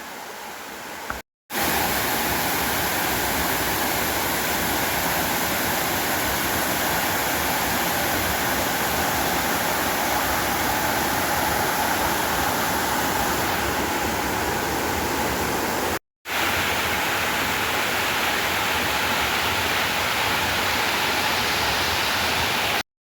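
Loud, close roar of the lower section of Grogan Creek Falls, a dense unbroken rush of water that dominates throughout, interrupted only by two brief cuts.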